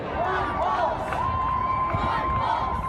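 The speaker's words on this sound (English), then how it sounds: "The crowd chanting "One Pulse" in honor of the victims." At a march honoring the Pulse nightclub victims, a crowd chants "One Pulse" in loud, rhythmic unison, with voices and cheering filling the space throughout.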